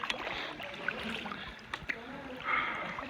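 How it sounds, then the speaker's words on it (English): Two-seater kayak paddled in a small lagoon at El Nido, Palawan: soft water swishes and gurgles with a few paddle knocks, fairly faint and close, with muffled voices in the background. "rowing on a two-seater"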